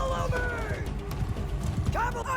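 Horses thunder across a Mount & Blade II: Bannerlord battlefield, a dense drumming of hooves mixed with a whinny and battle din, while a voice talks over it.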